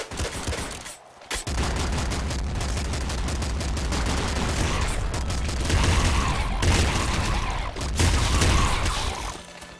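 Weapons fire rapidly in the video game Nuclear Throne, a dense barrage of sharp shots and booms after a brief gap near the start, continuing loud and unbroken.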